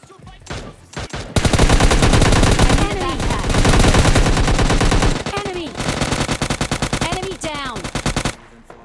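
AKM and UMP-45 fire in PUBG Mobile Lite: long, loud bursts of rapid automatic gunfire, near and sustained, broken by short gaps, with a few faint voice sounds mixed in.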